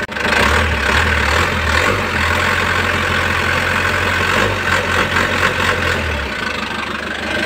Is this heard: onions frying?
no